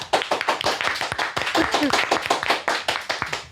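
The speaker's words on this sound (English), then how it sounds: "Clap your hands if you're judging me and Nicole" An audience claps in scattered, overlapping bursts of individual handclaps close by, uneven in rhythm, with some voices mixed in.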